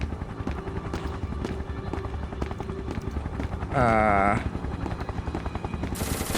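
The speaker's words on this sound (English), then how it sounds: "Oh, it's a helicopter shooting me." A helicopter thumps steadily amid busy game sounds in SCP Containment Breach, with a brief whining electronic burst partway through.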